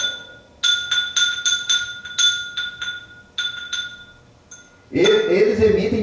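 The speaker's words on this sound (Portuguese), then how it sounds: "O sino toca mesmo, pessoal." A handmade fired clay bell with a clay clapper rings in a run of bright, clinking strikes, some quick and some spaced apart, then stops as a person starts talking.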